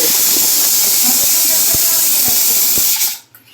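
Steady loud hiss of steam from a pressure cooker boiling potatoes, with faint regular ticks running under it, cutting off abruptly near the end.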